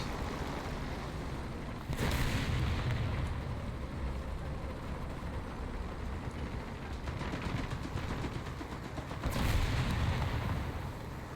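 Artillery fire in a tank video game: two deep booming impacts several seconds apart, each followed by a rumbling tail over a constant low engine-like drone.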